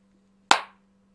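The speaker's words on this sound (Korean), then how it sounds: "이 박수 소리를 지금 여러분들이" A single sharp hand clap rings out alone in a quiet room, crisp and close with a short decaying tail, over a faint steady hum.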